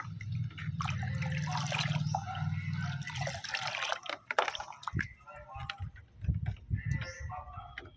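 Fertilizer is stirred into a bucket of water, giving close sloshing and swirling water sounds that fade into small drips, splashes and light handling noises.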